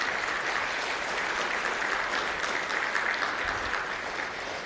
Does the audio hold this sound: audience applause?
yes